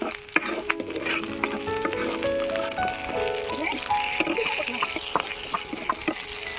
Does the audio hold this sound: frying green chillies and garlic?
yes